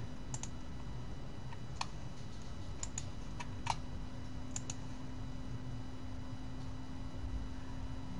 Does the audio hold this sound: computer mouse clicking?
yes